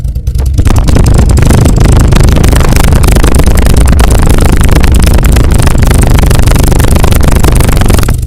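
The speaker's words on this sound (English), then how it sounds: "there's a good listen to the engine and the exhaust" A 2020 Mustang Bullitt V8 with a loud, throaty aftermarket exhaust revs hard and steadily, close to the microphone and filling the clip with a deep rumble.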